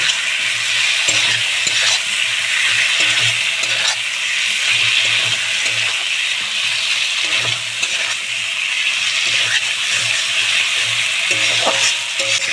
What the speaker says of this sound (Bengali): ভেজে রাখা আলুগুলো দিয়ে ভালো করে কষিয়ে নেব।